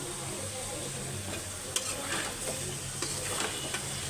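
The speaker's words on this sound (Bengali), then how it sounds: "এই যে মশলাটা কষানো হয়ে গেছে তো এই যে লাউগুলো দিয়ে দিলাম" Bottle gourd pieces sizzle in fried spice paste in a home kitchen pan, a steady faint crackle broken by a few sharp clicks of stirring.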